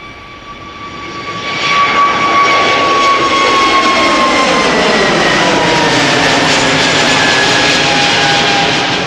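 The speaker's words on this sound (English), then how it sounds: "BA flight 431 to London Heathrow. It's an A320neo." A British Airways Airbus A320neo climbs steeply after departing Amsterdam Schiphol, its jet roar swelling quickly after the first two seconds and then holding loud and steady, with whining engine tones that shift in pitch as it passes.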